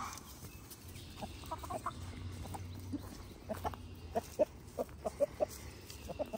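A backyard flock of a rooster and seven hens clucks in short, scattered calls, some close and sharp, others softer, over a faint steady background hum.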